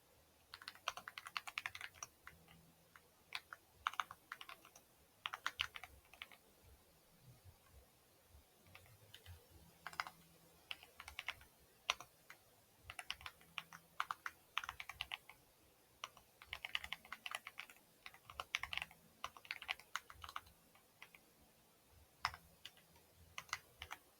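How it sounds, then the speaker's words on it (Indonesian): Steady computer keyboard typing while code is entered for a data structures lab on DFS and BFS, with quick irregular clusters of clicks and short pauses, close and moderately quiet, with no talking. "Sekarang mari kita ketik untuk logikanya."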